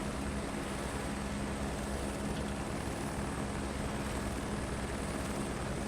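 A helicopter rotor in Microsoft Flight Simulator 2024 gives a steady, continuous broadband whirr with a low rhythmic thrum, even and unbroken throughout, with no voices.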